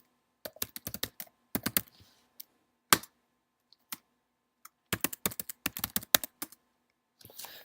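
Fast keyboard typing on a computer while a command is entered during a Unix server agent install: bursts of crisp, close clicks in quick runs, with short pauses between bursts and no talking.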